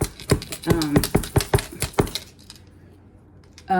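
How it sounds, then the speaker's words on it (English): A rapid series of sharp knife chops on a cutting board, about a dozen evenly spaced strokes, close by, then a quiet pause. "I'm sorry if it's kind of noisy, but I'm chopping here."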